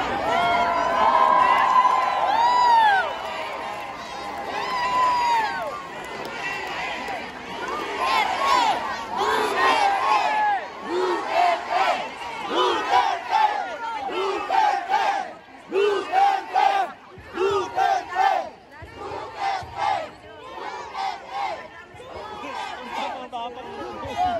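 Supporters of Duterte gathered in Milan, Italy, shout and chant together in a loud, dense crowd roar, with bursts of cheering and overlapping voices rising and falling in waves.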